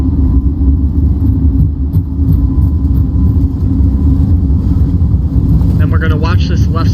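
In the FlyByWire A32NX flight simulator, A320 engines hold at takeoff thrust as a loud, continuous low rumble. A voice briefly cuts in over the roar near the end.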